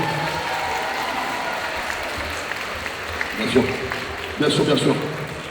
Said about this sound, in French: on peut les applaudir super